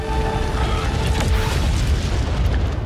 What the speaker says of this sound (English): Oh my gosh, he's gonna explode.